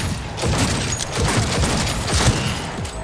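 Firefight in the video game Cyberpunk 2077, a continuous dense rattle of rapid gunshots layered over one another, loud and close for the whole few seconds, with no talking.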